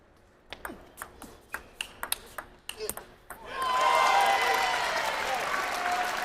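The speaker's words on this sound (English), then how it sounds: "the crowd urged Wenzhang on" A table tennis rally at the 2017 US Open men's semifinals: a quick run of sharp ball pings on paddle and table, then the crowd bursts into loud, sustained applause and cheering.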